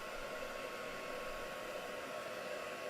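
A hair dryer runs steadily to dry freshly applied blue paint before stenciling, a continuous close whooshing hum with no breaks and no talking.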